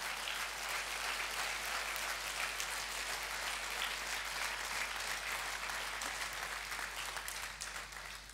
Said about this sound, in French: on peut les applaudir, ils sont là